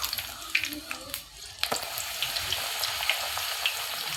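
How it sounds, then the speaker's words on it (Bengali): Luchi made from ration wheat flour deep-frying in oil, a bubbling sizzle with scattered pops and light utensil knocks, close by, with a brief stretch of background voice. "লুচির মতো করে তেলে আমি ভেজে নিব"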